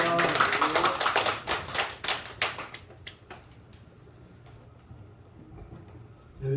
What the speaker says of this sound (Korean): 우리 박수로 할렐루야로 환영했으면 좋겠습니다